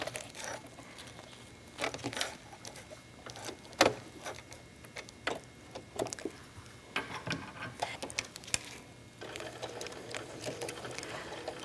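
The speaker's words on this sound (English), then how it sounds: "First, I'm sewing the binding on." A sewing machine stitches binding onto a vinyl pouch using a nonstick presser foot, giving quiet bursts of rapid mechanical clatter that start and stop, with light handling rustles between runs and no one talking.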